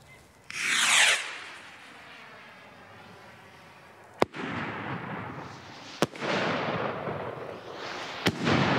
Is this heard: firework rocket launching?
yes